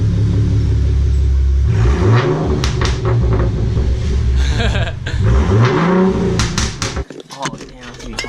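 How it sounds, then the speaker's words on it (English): A Ford Mustang running with no mufflers is revved twice in quick succession, each blip rising and falling with a loud, raw growl over a rumbling idle, up close. "Hey, give it a few revs."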